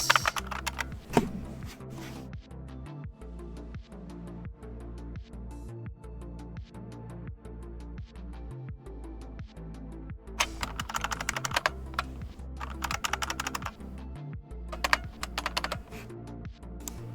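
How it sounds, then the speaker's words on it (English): Continuous brisk typing on an IBM Model M buckling-spring keyboard, loud and close, with crisp clacky keystrokes in irregular bursts and occasional heavier bottoming-out thumps, no talking. "Love the keyboard sounds. Thank you. That's my Model M."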